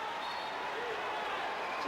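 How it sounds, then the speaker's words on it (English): Crowd at a 1999 MBA basketball game between Manila and Cebu Gems, a steady distant roar from the arena stands, faint and continuous under a commentator's voice. "Listen to the crowd say so."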